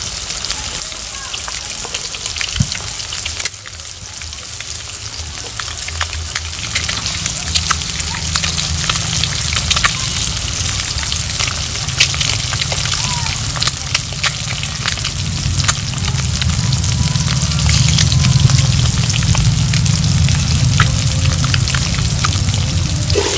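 Eggs fry in hot oil with a little turmeric in a village kitchen, giving a continuous crackling sizzle with fine popping throughout, loud and close, with occasional soft background sounds.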